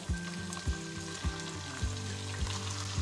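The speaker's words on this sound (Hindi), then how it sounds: "अब मैं इसके अंदर कीमा डाल दूँगी जो मैंने आपको दिखाया था।" Minced meat (keema) fries in a hot karahi with a constant loud sizzle, broken by rhythmic metallic clanks of a utensil roughly every half second.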